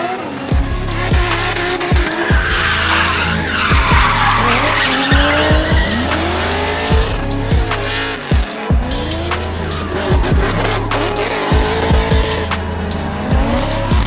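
Chevrolet Corvette C7 drifting at an event, with loud sustained tire squeal and skidding over a roaring engine, repeated slides and revs rising and falling, heard from close by.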